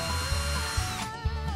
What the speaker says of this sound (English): I always like to just screw in one screw first before I drill the hole for my second one